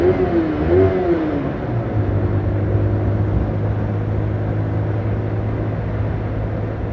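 A motorcycle engine runs up to around eleven thousand rpm on the road, a loud, steady buzzing drone with a brief rising pitch sweep early on, mixed with wind rush.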